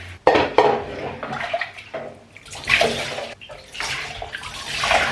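Shallow bathwater, about a centimetre deep, splashes and sloshes in a home tub in loud irregular bursts, with close wet slaps and a hard knock or two against the bath.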